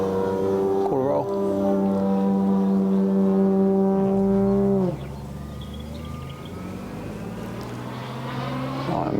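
The engine of a 104-inch Extra 300 model aerobatic aircraft drones loud and close with a strong buzzing tone, swells briefly, then drops sharply in pitch and volume midway before slowly building again as it powers up for a loop.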